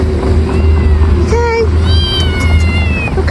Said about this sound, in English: I think this cat is stuck in the fence